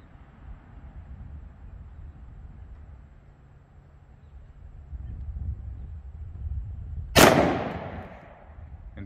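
A single sharp 10mm pistol gunshot from Sellier & Bellot XRG 130gn ammunition cracks loudly late on, after quiet outdoor background, with a ringing decay.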